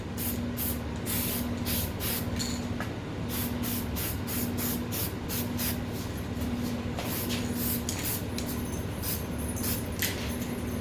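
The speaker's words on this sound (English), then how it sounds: "Watch when you're spraying, you're not spraying into someone's eyes." Rapid, repeated hissing spray bursts directed onto a person's skin during a body mummy wrap treatment, close and continuous over about ten seconds with brief pauses between pumps.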